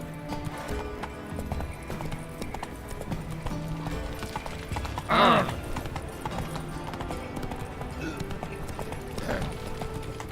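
Horse hooves clip-clop at a steady trotting rhythm in The Witcher 3 video game, a clear close beat under game music, with a short louder burst near the middle.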